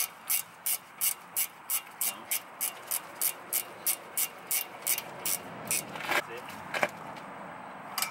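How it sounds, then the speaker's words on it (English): Ratcheting wrench clicking in a steady rhythmic series of about twenty close, crisp bursts during rear brake rotor and pad work on a Mazda CX-5, followed by a couple of sharper metallic clanks, with speech faint in the background. "C'est un ratcheting wrench."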